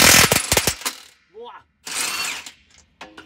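Pneumatic impact wrench pulling a large lug bolt from a monster truck wheel, heard as short loud rattling bursts up close, then a few brief mechanical clicks and clatters.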